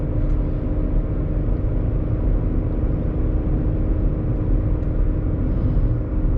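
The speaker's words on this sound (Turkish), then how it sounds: "yol sesi biraz alıyor. Lastiklerden kaynaklı olabilir." Steady road and tyre roar inside a moving 2011 Skoda Fabia on 195/55 R15 tyres, a constant low droning rumble with a faint engine hum, loud and unbroken for the whole stretch.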